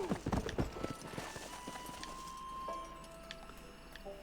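Horse hooves clop quickly across sand in Red Dead Redemption, a burst of close, crisp footfalls that soon fades into quieter ambience.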